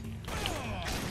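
A revolver being reloaded in the Blue Estate video game: a brief run of mechanical clicks and ratcheting, cylinder-like clatter at moderate level, with no voices.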